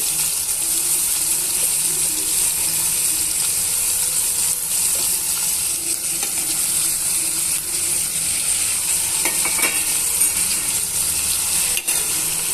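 Cucumber and tomato pieces sizzle in a pan while being stirred, a steady moist hiss with occasional spoon scrapes and taps, close and continuous, without speech.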